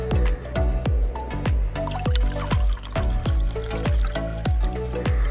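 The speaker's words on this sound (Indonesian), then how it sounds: "mau siram dulu dengan air ya semuanya" Water dripping steadily while plants are watered, with evenly spaced drops falling roughly twice a second, loud and close, in a continuous rhythmic patter with no voices.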